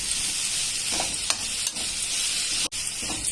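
Boiled cabbage being stirred and mixed with chilli powder, masala and salt in a bowl, giving a steady soft wet scraping and squelching with a few brief clicks, close and fairly quiet.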